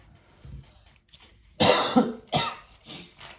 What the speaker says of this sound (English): Before I go into a coughing fit.